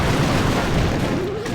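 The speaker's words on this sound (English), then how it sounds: "Looks like that giant cannon is aiming at it." A giant cannon in Clash of Clans Builder Base fires with heavy booming blasts, loud and dense over a rumbling battle din, with a voice talking faintly underneath.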